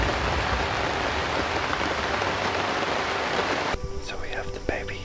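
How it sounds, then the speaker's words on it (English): Heavy rain pours steadily on the foliage of a jungle in Bohol in the Philippines, a dense hiss that cuts off abruptly near the end, leaving quieter rustling and faint sounds. "It's been raining so much."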